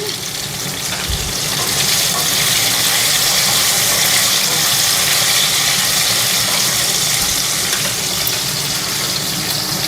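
Curry leaves sizzle in hot oil in a pan alongside drumstick fry, a loud, steady hiss with crackle that runs unbroken for the whole stretch.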